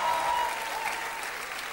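A church congregation claps hands in steady, continuous applause during an evening revival service, a dense wash of clapping heard alone with a faint sustained tone running underneath.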